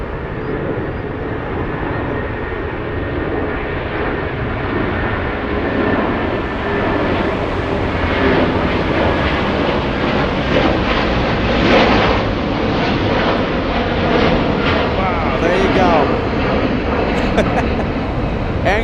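A Discover Airlines jet on runway 25 center at Frankfurt, bound for Anchorage, gives a steady, loud engine roar that builds slightly midway and holds throughout, with a voice talking over it.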